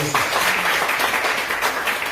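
A church congregation bursts into applause for Jesus during a sermon, giving a short, dense burst of clapping that fills the room.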